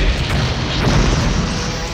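A loud, deep detonation rumbles through a 1994 film trailer, a sustained explosive roar with crashing debris filling the whole stretch without letup.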